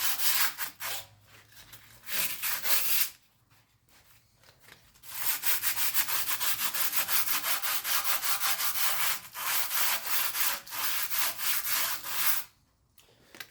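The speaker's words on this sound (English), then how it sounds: "Just sand it down." Rear brake parts on a BMW F30 are sanded by hand in long, rhythmic rasping strokes, loud and close, with a few short pauses between bursts.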